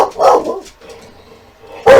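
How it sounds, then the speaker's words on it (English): House dogs bark indoors, a couple of close, sharp barks with a short gap before another loud bark at the end, heard alone without talk. "they like to bark at everything"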